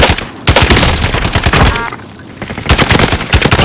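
Gunshots in Call of Duty Warzone, loud rapid automatic bursts firing in quick succession with brief pauses between volleys, up close and dominant.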